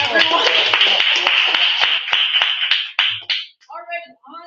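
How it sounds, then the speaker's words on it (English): Audience members clap at an open mic night, brisk, close applause that thins out after about three seconds and gives way to a little chatter. "Let's clap for Wincy, everyone"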